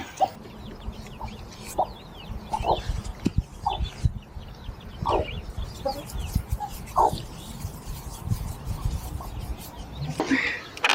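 A Silkie hen, broody and sitting in a box near a coop, gives soft, scattered clucks and short calls over a low background rumble, fairly close and unhurried.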